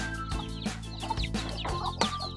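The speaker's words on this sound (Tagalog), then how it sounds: "para masanay na rin po kaagad yung mga sisiyo natin na kumain ng kumain sa kanilang bagong bahay" Young chicks pecking at booster feed from an automatic feeder in their new coop, with soft clucks and chirps and repeated pecking taps at close range, no talk.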